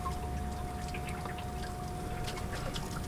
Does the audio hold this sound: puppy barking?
no